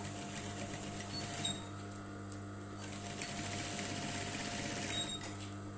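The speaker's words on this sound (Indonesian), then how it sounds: "Lalu kita jahit di sini pas tanda ya" A sewing machine stitches a welt pocket with flap on a women's blazer, its motor a steady close hum with dense rapid needle patter running continuously.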